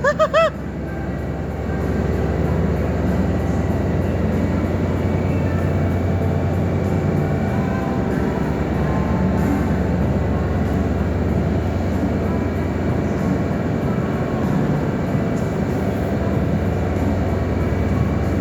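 Amtrak train number 2271 arriving: a loud, sustained rumble and roar of the train rolling past, steady for the whole stretch, with a short horn-like blast at the very start.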